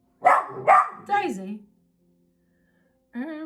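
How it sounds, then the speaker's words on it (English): A dog barking at a cat at the window indoors: a few sharp, close barks in quick succession, then a pause before another brief bark, with a voice speaking among them. "Dog's barking at the cat at the window."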